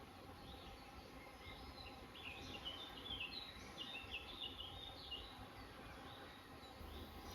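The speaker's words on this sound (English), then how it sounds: "Listen to those bees if you can hear them on the soundtrack." Bees buzz faintly in a forest, a soft continuous drone with fluttering wingbeats in a quiet outdoor setting, light and distant throughout.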